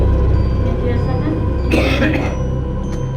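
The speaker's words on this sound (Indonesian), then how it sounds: "Sekarang ini batuk terus" A person with a persistent cough lasting weeks coughs once in a short harsh burst, close and loud, over a steady background rumble.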